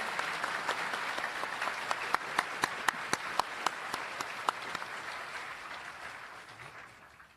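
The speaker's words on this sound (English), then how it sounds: "Round of applause for the animators." Applause from a seated audience honoring the animators at an A-1 Pictures staff breakdown event, a steady wash of many hands with a few sharp nearby claps standing out, tapering off toward the end.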